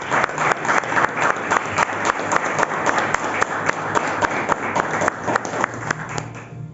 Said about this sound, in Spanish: ¿Cuánto le dan un aplauso al Padre?